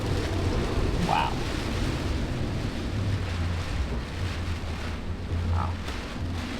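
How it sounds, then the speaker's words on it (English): Strong gusts from Hurricane Beryl roar steadily across a mangrove lagoon in Grenada where a catamaran is anchored, a constant loud buffeting rumble with low microphone wind noise filling the whole stretch. "definitely starting to get some strong gusts through now"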